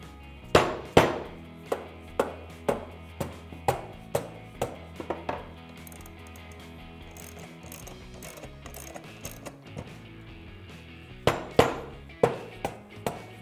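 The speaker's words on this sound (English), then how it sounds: "sometimes you just have to tap it apart a little bit, but the goal is to get the cases to come apart evenly" Motorcycle crankcase halves are tapped apart: a steady series of sharp, close metallic knocks about every half second, with a long quiet stretch in the middle before a final rapid cluster.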